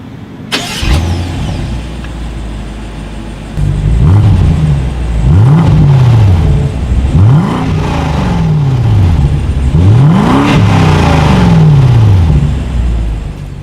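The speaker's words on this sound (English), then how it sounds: "here is that exhaust clip" A 2020 BMW 750i xDrive engine starts with a sharp crank, then revs repeatedly in sport mode, the exhaust rising and falling in loud, throaty bursts close by.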